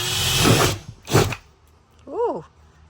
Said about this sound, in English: Now we drill a hole in our beautiful house.